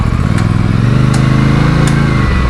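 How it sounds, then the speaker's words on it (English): An Aprilia Tuono 457 motorcycle engine drones up close while riding, a steady buzzing note that climbs slightly in pitch partway through and holds smooth and even. "Very, very sweet sounding engine"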